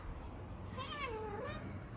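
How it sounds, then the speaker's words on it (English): A cat in a German village meows once, a clear drawn-out call with a rising then falling pitch, moderately close over faint outdoor background noise. "My uncle's cat."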